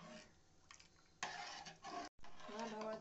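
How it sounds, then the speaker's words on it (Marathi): Spoon scraping and clinking against a pot while curd kadhi is stirred over a high flame, soft at first then louder bursts of metallic stirring with a brief gap of silence. "फास्ट फ्लेमवर कढी अशीच ढवळत राहा,"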